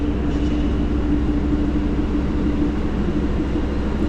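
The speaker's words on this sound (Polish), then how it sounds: "Leniwie skład jest ściągany" A train consist is slowly hauled through Kraków Główny station, a loud, steady low rumble with a sustained hum and no breaks.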